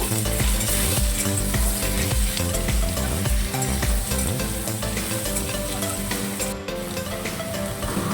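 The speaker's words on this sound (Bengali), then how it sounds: "এবার আমটাকে ভালো করে একটু ফ্রাই করে নেব।" Raw mango pieces frying in a pan with mustard seeds for kacha aamer chutney, a loud dense continuous sizzle and crackle with busy stirring clatter throughout, no talking.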